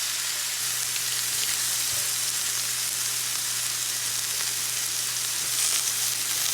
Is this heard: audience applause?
no